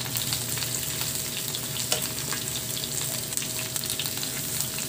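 Garlic and chili sauté in a pan for a chicken wings dish, giving a continuous loud sizzle with faint stirring scrapes and no voices.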